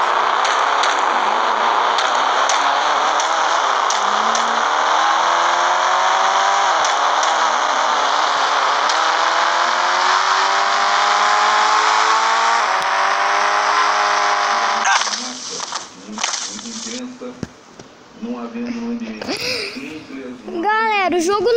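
Car engine revving in GTA 5, a loud sustained drone with rising and falling pitch, then choppy bursts and shifts near the end.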